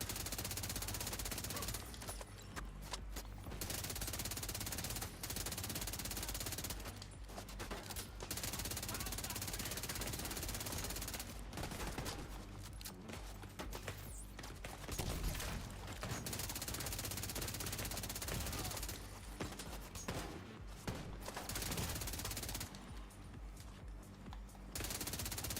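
Repeated rapid bursts of automatic gunfire from The Division 2, arriving in long rattling strings separated by brief pauses, moderately loud against continuous game ambience.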